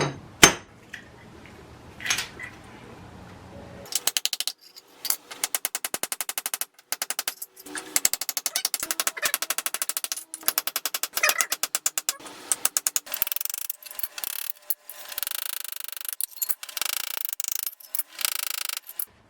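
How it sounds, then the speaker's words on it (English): A chisel chips out a cracked tile in rapid bursts of sharp, hard clacks and taps, quiet at first and then a long, dense, rattling run of close strikes. "we could start chiseling in some parts"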